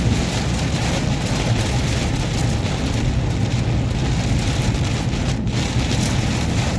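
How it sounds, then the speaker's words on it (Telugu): Heavy rain pouring steadily on a road in Kuwait, a dense, constant roar of drops with a faint rumble underneath and no voices. "హెవీ రేంజ్లో పడుతుంది ఫ్రెండ్స్ వాన"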